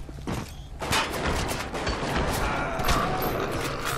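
Gunfire rattles in the 2007 shooter BioShock HD, a rapid fusillade of sharp cracks and mechanical clatter packed closely together, loud and continuous through the stretch with no talk.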